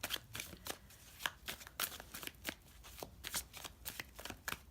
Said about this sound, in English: I've been shuffling while I was yapping